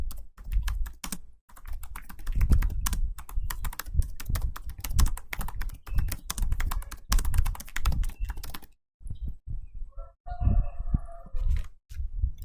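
Rapid typing on a computer keyboard while entering a dashboard title, a steady run of close, crisp key clatter for most of the stretch before easing into sparser taps near the end.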